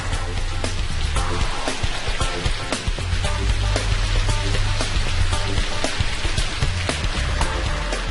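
Artificial rain pouring from a rain-making rig in a test setup, a dense, continuous hiss of drops pattering on the ground, loud and close, with no voices.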